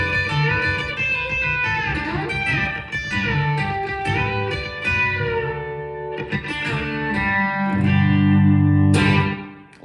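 A B-bender electric guitar plays a country lick in G, with bent strings sliding up into pitch over sustained chords, heard alone and up close with a slightly effected, reverberant tone.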